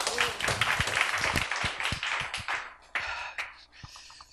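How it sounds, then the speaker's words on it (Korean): Audience applause welcoming a guest onto a Korean stage show, a dense burst of clapping with sharp individual claps, tapering unevenly toward the end. "박수로 맞이해 주시기 바랍니다."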